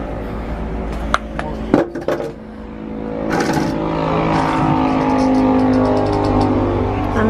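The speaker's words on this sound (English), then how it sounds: "You're supposed to turn the car off." A car engine left running gives a steady, close mechanical hum that builds after a few sharp clanks and knocks, with voices talking briefly near the start.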